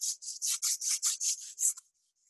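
A sanding pad rubs against a charcoal pencil in about eight quick, rhythmic strokes, each a close, bright scratchy rasp, before stopping into quiet.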